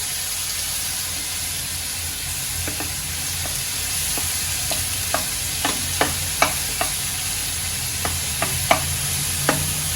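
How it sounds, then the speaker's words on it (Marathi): Spice paste frying in oil in a pan on a gas stove, with a constant hiss and sizzle and sharp spoon or spatula clicks that grow more frequent partway through. "मी हा सर्वांना तेलामध्ये मी चांगलं फ्राय होऊ देते"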